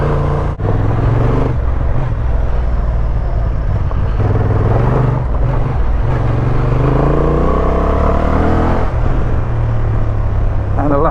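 A 2025 Honda Transalp motorcycle on road tyres rides along a rough off-road lane, its engine droning loudly and steadily with rises and falls in pitch, mixed with wind rumble.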